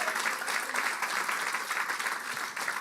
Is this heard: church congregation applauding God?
yes